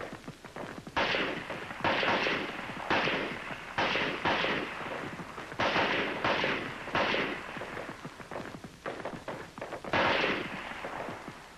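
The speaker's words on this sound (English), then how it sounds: "For your rapid fire zero, you fire 3 groups of 3 rounds each. Followed by a string of 10 rounds." An M-14 rifle fires rapidly on a military range, sharp loud cracks in short clustered groups and then a longer string of shots, each with a booming echo and no voices.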